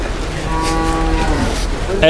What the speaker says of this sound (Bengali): একটু দেখাই গরুটা